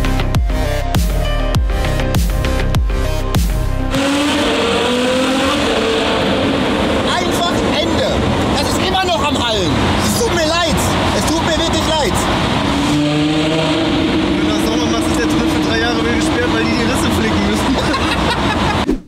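A Ferrari F12 drives past with loud revving engine bursts and roaring acceleration, with people talking and a busy crowd murmur throughout.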